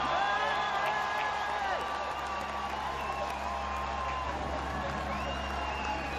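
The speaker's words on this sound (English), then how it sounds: "Listen to the crowd." Crowd cheering and shouting in the velodrome as a rider arrives at the 2012 Paris-Roubaix finish, a continuous roar with whoops and some clapping, heard through a steady broadcast hum and whistling tones.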